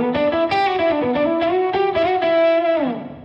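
Electric guitar played through a Boss SY-1 synth pedal while the tone setting is changed, giving a series of bright, buzzy synthesized notes with a chorus-like shimmer and a gliding pitch drop at the end, played alone.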